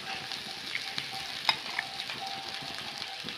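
Washed, dried flattened rice (chira) is tipped into frying vegetables and stirred, giving a soft steady sizzle with light scraping and a sharp clink of the spoon midway.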